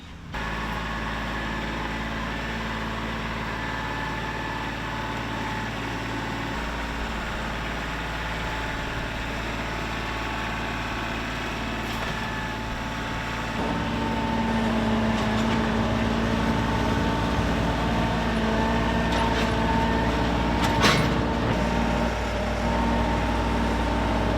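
A Ventrac compact tractor engine runs steadily throughout, a low idling drone that grows slightly louder partway through, with no voices.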